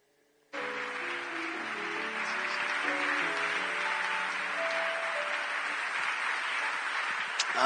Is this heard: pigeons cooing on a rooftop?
no